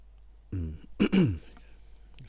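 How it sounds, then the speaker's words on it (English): Someone clears their throat twice in quick succession, a rough guttural rasp after a brief low vocal grunt, close and fairly quiet. "Have to work on clearing my throat."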